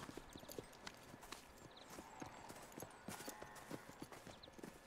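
Horse hooves clip-clop in Red Dead Redemption 2, a quick, steady rhythm of sharp hoofbeats at moderate distance, with no talk.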